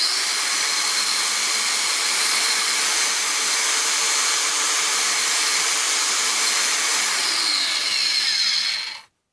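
A Milwaukee M12 FUEL 1/2" x 18" bandfile, model 2482-20, runs steadily with a loud, even whirring hiss and a faint whine, then abruptly winds down and cuts off at the end.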